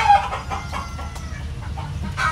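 Roosters and chickens in a crowded poultry pen on a farm cluck and crow in short overlapping calls, fairly close, with a steady low background rumble.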